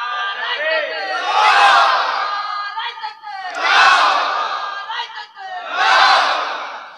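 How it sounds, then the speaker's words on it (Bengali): A crowd at a religious gathering roars Allahu Akbar in three loud, sustained collective shouts, each swelling and fading with short gaps of murmur between them. "একটু তাকবীর মারেন তো দেখি।"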